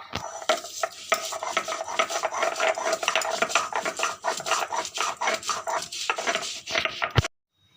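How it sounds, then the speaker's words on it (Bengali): Gandal leaves ground on a stone sil with a grinding stone, a close, steady scraping and rubbing rhythm of stone on stone that repeats back and forth for several seconds before stopping abruptly. "আমি এই গাঁদাল পাতাটাকে সিলে বেটে নিচ্ছি"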